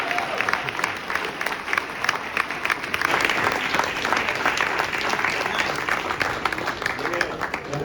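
A breakfast crowd at a Martin Luther King Jr. holiday celebration keeps up a sustained round of applause and clapping, dense and moderately loud and rising a little midway, with a voice faintly audible underneath.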